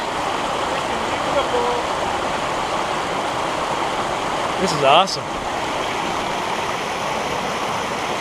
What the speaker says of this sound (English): found us a waterfall. Look at that.